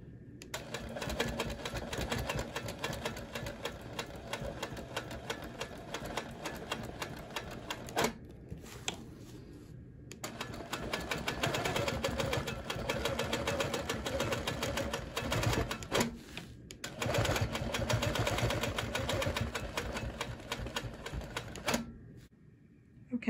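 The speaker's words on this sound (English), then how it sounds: "I'm being very careful about how I stitch and where the stitch line is" A sewing machine runs in long rapid bursts while free-motion quilting a pre-printed whole-cloth feather medallion, with brief pauses between runs and no talking.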